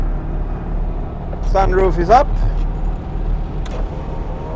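Porsche 911 or 356 running steadily on a road in Estonia with the sunroof open, a constant low engine and road rumble throughout, with someone talking over it.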